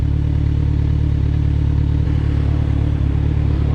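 2019 Kawasaki Ninja 1000 superbike idling with its cooling fan running, a loud, steady low engine rumble with an even whirring hum throughout, no talk.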